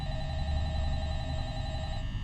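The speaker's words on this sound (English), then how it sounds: "the phone rings." An office telephone rings in the horror video game Five Nights at Freddy's, a steady sustained electronic ring heard alone at moderate loudness against a low background hum.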